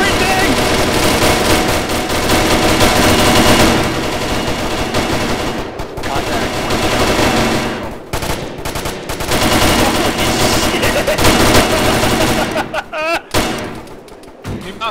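Loud, sustained machine gun tracer fire from ArmA hammers on in long rapid bursts with short breaks, while voices talk over the shooting.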